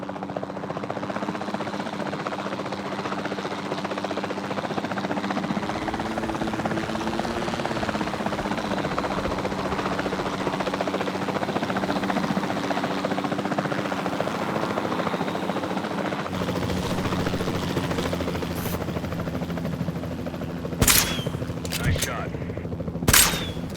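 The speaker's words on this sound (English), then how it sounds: "Then the sensible thing is to take a capture team helicopter." A capture team helicopter flying in the video game Jurassic World Evolution 2, rotors thumping steadily and loud throughout, with a few sharp gunshot-like cracks near the end.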